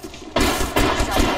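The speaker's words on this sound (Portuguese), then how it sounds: "I'm taking shots. Opening fire." Rapid bursts of video-game gunfire in Apex Legends, loud and close, arriving in several dense volleys with short gaps between them.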